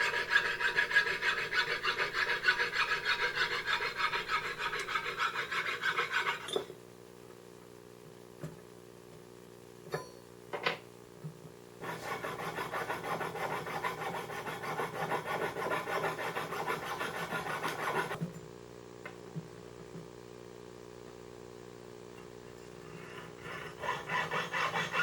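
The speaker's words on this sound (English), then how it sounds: "using a jeweler saw, I'll just cut these free of the sprue tree" A jeweler's saw cuts cast silver pendant pieces free of a sprue tree, giving close, steady rasping strokes in long runs, with a quieter pause in the middle where only faint scrapes and ticks are heard.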